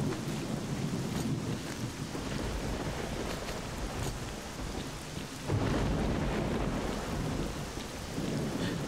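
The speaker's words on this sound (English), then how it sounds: "Well, at least we have rain sound effects." Steady heavy rain and rolling thunder in the S.T.A.L.K.E.R.: Clear Sky video game, a dense, continuous downpour with low rumbles swelling through it and no talk.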